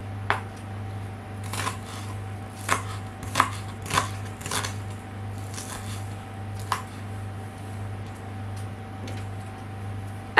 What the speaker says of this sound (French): je les coupe en deux et je les recoupe au milieu s'il y a besoin